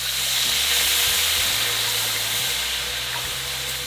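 Chianti wine hitting a hot pan to deglaze it for a beef stew, producing a loud, continuous steamy sizzle and hiss that stays steady and fades slightly toward the end, with no talking.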